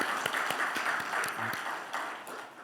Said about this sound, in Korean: 하나님을 영화롭게 찬양한 우리 찬양대 위에 큰 박수 다시 한번 하겠습니다